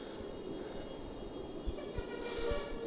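A train rumbles at a foggy railway station in Sujangarh, a steady low rolling noise throughout with a faint higher tone near the end and no talk.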